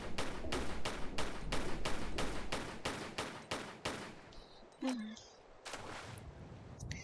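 Rapid bursts of gunfire aimed at a crocodile in the Tomb Raider video game, about a dozen regular shots in quick succession, loud and close, then a sliding electronic tone and a couple of later blasts.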